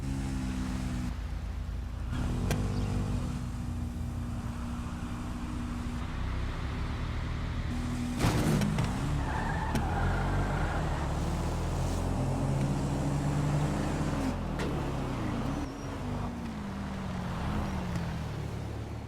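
Drag race cars at a Street Outlaws No Prep Kings night event launching with tires spinning, an all-wheel-drive car among them, a loud sustained engine roar and revving heard steadily from a distance.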